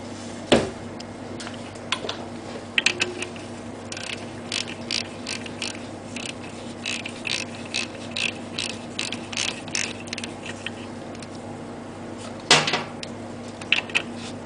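A ratchet turns a 13 mm horn bolt off a BMW R90/6 motorcycle, with sporadic clicking ratchet strokes in short bursts and a few sharper knocks over a steady background hum.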